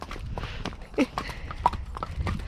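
Horses' hooves clip-clop on a street in a close, uneven run of sharp knocks, with several distinct strikes in a couple of seconds. Faint background noise sits under them.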